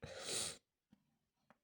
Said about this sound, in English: my sneezes always come out of nowhere too